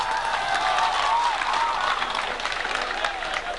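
An audience at a youth concert against violence and eve teasing breaks into loud, sustained applause, a dense roar of many hands with some crowd noise, easing slightly toward the end.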